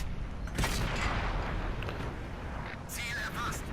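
A tank cannon fires at a Panzer V/IV in World of Tanks, a sharp blast near the start rolling into dense, sustained battle rumble, with a brighter crackling burst toward the end and faint game noise throughout.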